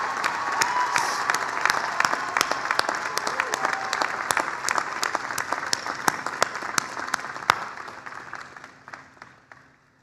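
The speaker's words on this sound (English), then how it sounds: "would you please join me in a round of applause for your families and your professors" A large crowd at a university commencement ceremony claps steadily for the graduates' families and professors, dense and sustained before fading out near the end.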